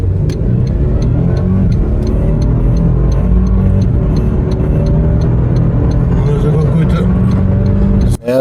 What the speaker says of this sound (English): Let's see how it accelerates.